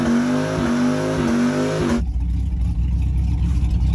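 A Dodge Viper V10 engine in a truck revs hard for about two seconds with rising and falling harmonics, then cuts back to a low rumbling idle, close by.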